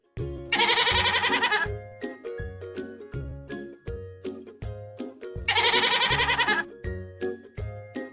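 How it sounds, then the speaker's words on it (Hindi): A magically summoned goat in a Hindi moral story: a loud, close, repeated bleating rhythm over music, with two longer wavering bleat bursts amid steady pulsing tones and chimes. "राक्षस ने हवा में से एक बकरी को हाजिर किया"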